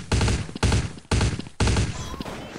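A weapon fires in a video game in four rapid, loud bursts of automatic gunfire, each lasting about half a second and separated by short gaps.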